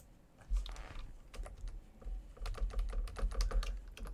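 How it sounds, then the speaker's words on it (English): Computer keys are typed in quick, irregular bursts of close, crisp clicks with a short pause in between, alone and fairly quiet. "So I just typed in the same number"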